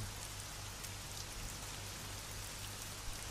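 Steady rain pouring down and pattering on a surface, a dense continuous hiss that stays even throughout with no voices.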